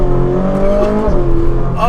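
A Ferrari 458 Spider's V8 in race mode, heard from inside the car as a loud, steady engine note with rising harmonics under acceleration, close and continuous for under two seconds.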